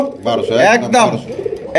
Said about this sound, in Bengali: একদম বিগ সাইজের সুন্দরী একজোড়া গড়া কবুতর দর্শক নিতে পারবেন